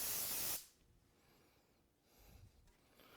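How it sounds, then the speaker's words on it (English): A Fast Cap product is sprayed from a can during step crown moulding installation, one short loud hiss that cuts off after half a second, followed by quiet room noise and faint handling. "I'm going to spray it."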